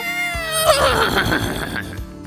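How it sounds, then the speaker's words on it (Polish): A horse lets out a single clear whinny that rises and then shakes into a fluttering descent, loud and close, lasting about two seconds. "To zwierzę to koń."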